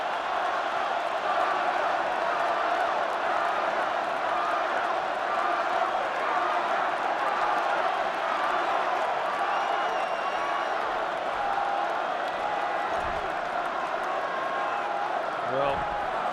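Stadium crowd at a 2009 Packers vs Vikings football game, a broad sustained roar of thousands hoping an injured Donald Driver gets to his feet, heard under a commentator's voice.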